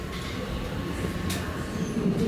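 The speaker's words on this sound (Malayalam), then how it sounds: "കൃത്യം 12 മണിക്ക് ട്രെയിൻ പുറപ്പെട്ടു." Inside a near-empty Dutch train pulling away toward Schiphol, a steady low rumble and rolling hiss of the carriage fill the space, with a brief brighter swish partway through and no talk.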